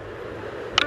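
A single short, crisp click from an Android phone's TalkBack screen reader set to an iPhone VoiceOver-style sound scheme, heard alone over a faint steady background.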